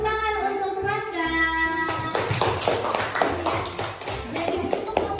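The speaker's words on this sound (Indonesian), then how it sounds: "Tepuk tangan untuk Rangga." A primary school class applauding a student, a burst of quick scattered clapping from many hands that follows a brief held musical tone, steady and fairly loud.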